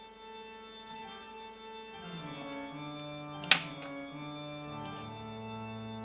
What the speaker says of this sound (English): you hear a dramatic organ playing.